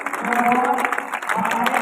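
An audience applauds a guest arriving to hoist a flag at a ceremony, a steady crowd clapping with an amplified voice speaking over it.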